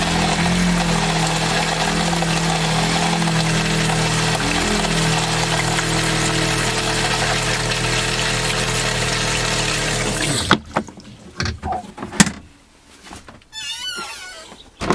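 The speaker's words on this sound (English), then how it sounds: "Now you can hear the pump working pretty hard." Water pump in a Roadtrek Popular camper van working hard during fresh-water filling and sanitizing, a loud steady droning hum for about ten seconds that abruptly stops, followed by quieter intermittent clunks and water trickling sounds.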